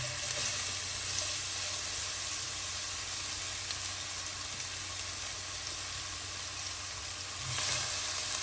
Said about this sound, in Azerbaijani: yağımız tam əridikdən sonra xırda-xırda doğradığım bir baş soğanı əlavə edirəm